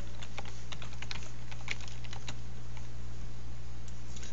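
Rapid keystrokes on a computer keyboard while a web address is entered, a quick irregular run of crisp clicks over a steady low hum, fairly quiet and close.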